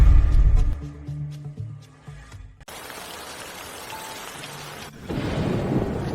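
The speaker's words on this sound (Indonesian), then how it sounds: "Kenapa hujannya deras sekali?" Heavy rain pours down as a broad steady hiss that swells louder toward the end, following an opening stretch of deep rumbling and tonal sound.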